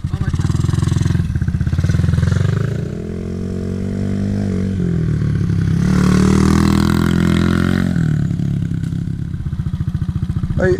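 Honda 50 motorcycle fitted with an 88cc big bore kit, its small engine buzzing and revving up and down as it rides, loud and near, with a voice talking over parts of it.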